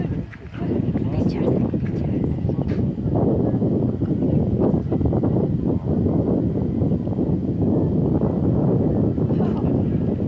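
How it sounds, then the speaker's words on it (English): Strong wind rumbles and roars steadily, with occasional gusts and faint voices underneath. "It's windy."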